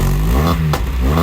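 A hot hatch car engine revs hard through a new exhaust manifold with a throaty, raspy exhaust note, rising and falling briefly at close range.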